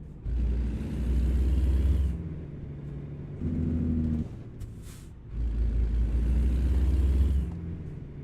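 A truck in American Truck Simulator drives past in bursts of deep engine rumble that swell and fade, with a brief hiss like an air brake between passes; no talk.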